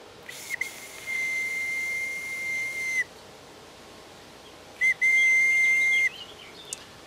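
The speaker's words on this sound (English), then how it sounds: "So there you have it, the twig whistle." A homemade twig whistle, a bark sleeve slid back over a notched twig, blown in two steady, shrill, pure-toned blasts of about two and a half and one second, close by with a quiet outdoor background.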